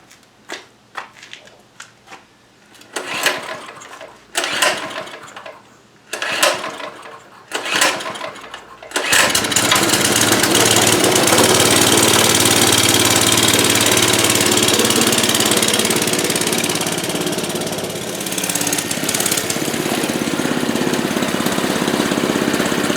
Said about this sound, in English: Hear my little mini bike running in the background.